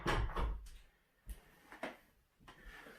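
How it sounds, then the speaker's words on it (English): A door in a quiet room is pushed shut, with a muffled handling rustle followed by a few soft thuds and clicks of the latch, close but low in volume. "I'm going to close this door"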